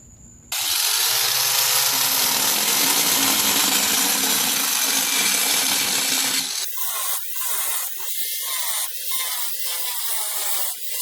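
A power tool cuts floor tile, loud and steady, with a harsh, continuous roar for about six seconds. It then drops into shorter bursts as the cut is finished in stages.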